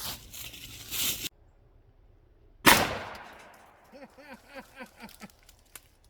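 A .350 Legend rifle fires at a pumpkin outdoors: one loud, sharp blast with a ringing decay after a brief lull, followed by a series of fainter scraping, chirping clicks.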